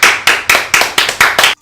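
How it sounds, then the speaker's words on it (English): Seven sharp, loud hand claps in an even rhythm, close and distinct, ending abruptly in silence. "Should we just do a round of applause really quick?"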